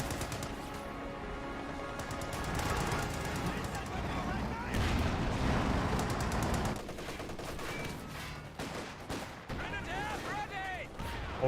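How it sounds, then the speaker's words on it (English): Tank cannon fire and gunfire in a Company of Heroes 2 battle, a dense run of shots and blasts layered over continuous combat noise, with a voice talking over parts of it. "Grim tank firing away."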